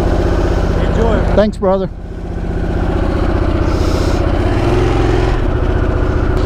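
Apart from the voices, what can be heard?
2021 Harley-Davidson Sportster S motorcycle engine started and idling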